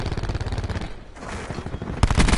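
Gunfire in Black Ops 4 comes in rapid automatic bursts, dense and continuous, with a brief lull midway and a sharper, louder burst near the end.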